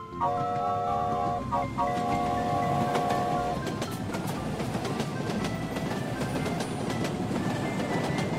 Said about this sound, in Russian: Поехали, поезд!